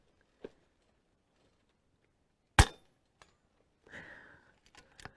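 American Air Arms EVOL airgun fired outdoors at an expo: one sharp, loud crack in the middle, followed by faint mechanical clicks and brief bits of background voices.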